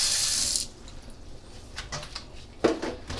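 Tap water runs steadily into a kitchen sink while raw chicken breasts are rinsed, a broad hiss that drops away after about half a second, followed by quieter splashes and a short sharper splash near the end.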